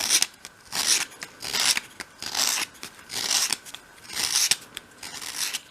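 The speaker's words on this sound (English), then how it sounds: "So just very gently sweeping the sandpaper from the front to the side, just to give it that nice rounded edge." Sandpaper sweeping gently over a wooden edge to round it off on a kitchen room box, six steady rasping strokes in an even rhythm, close and clear, no talking.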